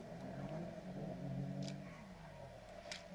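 Car engine in GTA revving and building while driving, a faint mid-range drone that rises and then falls away, with a couple of brief higher hisses.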